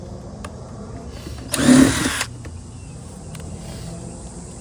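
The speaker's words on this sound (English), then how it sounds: "right now Hannah and I are just drilling holes in the brackets and into the metal, like the framing around the solar panel" Power drill boring holes into the metal framing of a solar panel bracket during an RV installation, a single loud burst of under a second amid quiet background.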